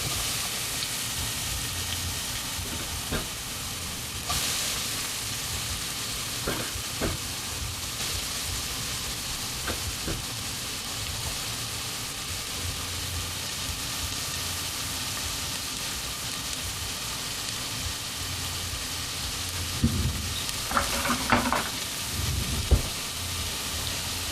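Chopped onions sautéing in about two tablespoons of canola oil, giving a steady, even sizzle throughout with a few faint clicks and taps near the end, no voices.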